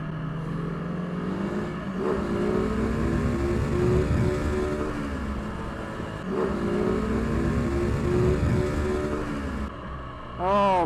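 A motorcycle engine howls through the gears on a Snetterton 300 track day, loud sustained revs rising and dropping with each shift, the engine note continuing alongside a rider's talk.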